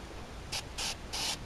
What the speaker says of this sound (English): So I'm spraying in these areas